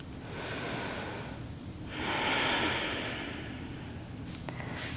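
Deep breathing during a yoga session, a long slow inhale and a stronger exhale through the nose, close and clear against a quiet room with no talk.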